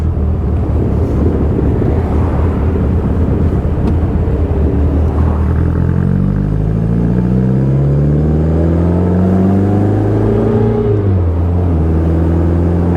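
A 1960 Bugeye sports car driving with heavy wind buffeting, its engine note rising steadily through the gears as it accelerates, loud and close from on board.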